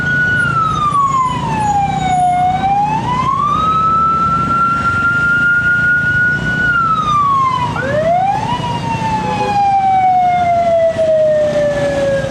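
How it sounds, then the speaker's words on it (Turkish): A loud ambulance siren wails in Sri Lankan street traffic, slowly sweeping up and down in pitch, over the rumble of nearby traffic. "ambulans geldi, karıştı"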